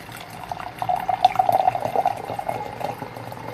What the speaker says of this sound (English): I'm gonna pour out the rest of this